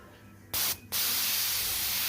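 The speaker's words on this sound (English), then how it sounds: "Okay, so I'm going to try and airbrush down here without masking it." Two bursts of fine, hissing airbrush paint spray on a helmet, a short one then a longer continuous one at low pressure, close by against a quiet background.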